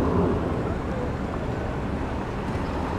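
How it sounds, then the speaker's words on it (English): A car approaches on a road at an uncontrolled crossing in Mexico, a steady broadband rumble of traffic that holds for a few seconds at moderate distance. "I hear a car."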